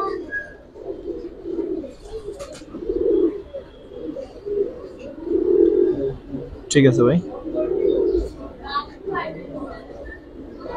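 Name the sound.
pigeons cooing, Giribaz pigeons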